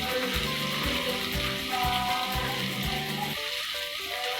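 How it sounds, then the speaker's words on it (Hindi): Okra sizzling in a pan, with a steady, close crackling fry that runs unbroken throughout. "तो बस हमने भिंडी को इतना ही फ्राई करना है।"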